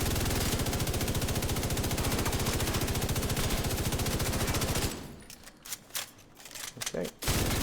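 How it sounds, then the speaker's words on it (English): A secondary gun in The Division 2 fires a long, unbroken rapid burst at close, loud range for about five seconds, then stops, leaving a few scattered faint clicks and thumps. "let's just shoot our other gun for a little bit"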